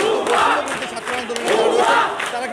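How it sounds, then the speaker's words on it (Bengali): Protesting students at Rajshahi University chant slogans loudly in unison, a close, swelling crowd cry rising and falling in rhythmic waves. "এই মুহূর্তে আপনারা দেখতে পাচ্ছেন স্লোগান তারা এখানে দিচ্ছেন"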